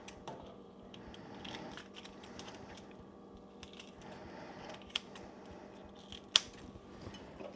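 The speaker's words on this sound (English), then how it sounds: "cut them up with scissors" Scissors snipping through vegetables of several colours, a run of small close crisp cuts with a couple of sharper clicks, done with a prosthetic hand in a quiet kitchen.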